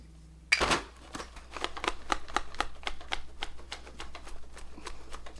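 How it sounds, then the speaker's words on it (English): A setting spray bottle pumped at a face in a steady series of sharp, short sprays, about a dozen even bursts in a row, fairly close and alone after one louder opening hiss. "Setting spray."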